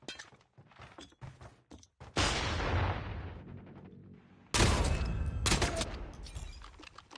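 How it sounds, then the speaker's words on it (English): Shotgun fire in a mobile battle royale video game: a few sharp shots, then two loud, sustained blasts with long decaying tails, the second rising sharply, heard without talk. "the shotgun coming through from Chiz"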